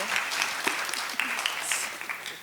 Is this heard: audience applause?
yes